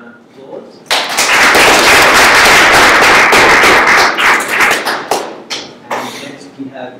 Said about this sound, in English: maybe you can have a round of applause